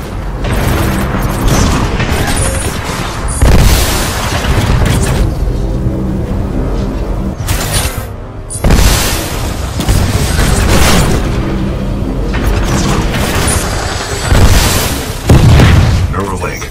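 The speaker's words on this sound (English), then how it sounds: "Shoulder-mounted rocket pod will lock onto multiple enemy targets." Explosions from a shoulder-mounted rocket pod in Titanfall 2, heavy booms recurring over a loud, continuous battle din with a voice speaking over it.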